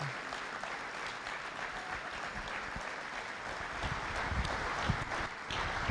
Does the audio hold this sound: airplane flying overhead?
no